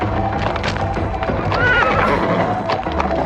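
A horse whinnies in a rising, wavering call amid hoof clatter and a loud, restless scuffle that runs continuously and close.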